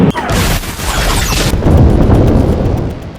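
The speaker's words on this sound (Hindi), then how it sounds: "इस समय इजराइल के बम से लेबनान में लगातार धमाके हो रहे हैं" Bomb blasts in Lebanon, a heavy booming impact with a crashing burst at the start, followed by a long, loud rumbling roar that stays strong and gradually settles.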